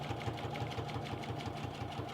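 A Pfaff or Janome sewing machine top stitches a laminated fabric handle, its needle hammering in a fast, steady mechanical rhythm, close and continuous with no voices.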